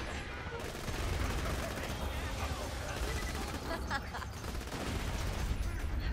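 Constant rapid gunfire from Borderlands 2 gameplay with the Stinger, Stalker and Anarchist gear, a dense, unbroken rattle of shots and impacts that keeps going for the full six seconds.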